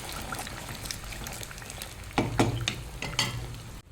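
Beaten eggs are stirred in a hot, oil-free pan for a potato omelette, giving a soft sizzle with scraping spatula strokes that grow sharper and more distinct toward the end.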